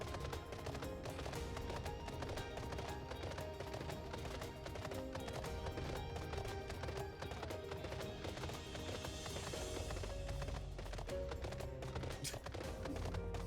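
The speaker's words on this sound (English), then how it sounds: "There's something poetic about riding an electric horse" Hooves of a mount clip-clop steadily in Final Fantasy XIV, ridden through a technologically advanced ruined city, with a dense music score playing loudly over the whole ride.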